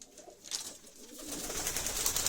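Pigeons in a winter coop give soft, low coos, quiet and intermittent at first, with a hissy background building toward the end.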